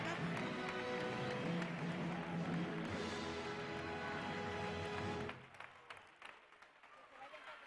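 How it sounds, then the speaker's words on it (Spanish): Applause at a carnival queen coronation, a dense crowd clapping loudly for several seconds before it cuts off into scattered taps and murmurs. "Un fuerte aplauso."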